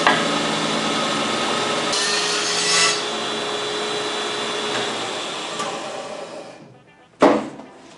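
A band saw cuts a curved piece of wood with a loud, steady buzzing rasp that fades near the end, then the blade stops and a short clunk follows.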